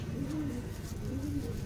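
A good-quality pigeon coos low and soft in a continuous, repeating murmur, close and fairly quiet, with faint background noise and no clear speech.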